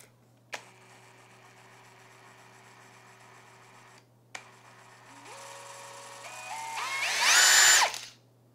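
Ryobi ONE+ HP 18V brushless compact cordless drill/driver whirring at low speed with a steady whine, stopping briefly, then restarting and climbing in pitch to a loud high-speed scream before cutting off.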